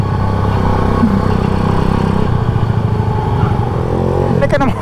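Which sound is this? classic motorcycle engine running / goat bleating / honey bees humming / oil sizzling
classic motorcycle engine running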